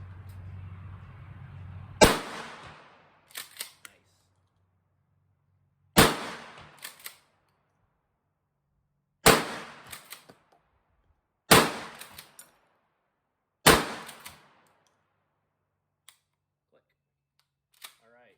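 Five sharp shotgun blasts ring out at an outdoor range from a Mossberg 500 .410 firing 88 grain slugs at a 25-yard target. Each loud crack is spaced a few seconds apart with a short decaying tail, and faint handling noises fall between them.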